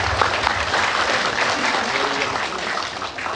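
A seated audience at a talk in a Denpasar hotel claps together in a dense, even burst of applause that carries on without a break, loud and close.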